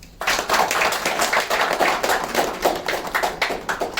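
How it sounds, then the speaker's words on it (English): An audience breaks into applause to welcome a speaker at a talk, starting abruptly and holding as dense, close clapping with a brisk, uneven rhythm to the end. "with a big round of applause, welcome him"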